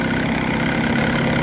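A 1979 Johnson 35hp outboard engine with electric start keeps idling in neutral, a loud, steady, continuous drone close by with no talking.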